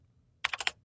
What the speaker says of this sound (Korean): 탁탁, 익숙한 키보드 소리